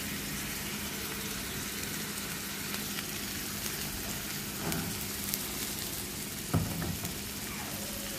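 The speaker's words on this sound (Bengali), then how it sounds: "শাকগুলো দিয়ে দিলাম, দিয়ে এখন এটাকে ভালো করে ভাজা ভাজা করে তারপর নামিয়ে নিব।" Bottle gourd greens fry in a hot pan with a steady, close crackling sizzle throughout, with an occasional stir or scrape of a utensil and no speech.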